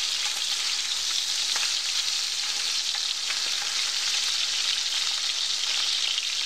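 Duck meat sears in a hot greasy pan after being flipped, producing a steady bright sizzle with small pops and crackles throughout, no voices.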